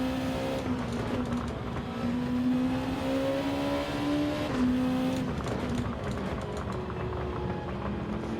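A race car in Gran Turismo 7 accelerates with a loud, close engine whine rising in pitch, cutting back briefly as it shifts and then climbing again, with faint clicking underneath.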